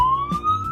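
A talking pen toy plays a short electronic fire truck siren, a thin rising wail heard up close with faint background noise.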